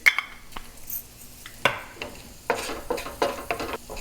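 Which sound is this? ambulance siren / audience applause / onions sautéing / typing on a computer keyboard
onions sautéing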